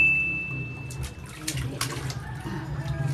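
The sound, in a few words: water splashing while washing a baby's bottom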